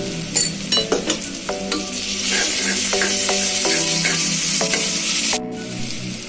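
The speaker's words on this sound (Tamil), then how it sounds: "இப்போ இஞ்சி பூண்டு பேஸ்ட் சேர்த்துக்கலாம்." Ginger garlic paste frying with sautéed onion and curry leaves in a pan, loud continuous sizzling under repeated metallic stirring clinks and scrapes, with a brief drop-out near the end.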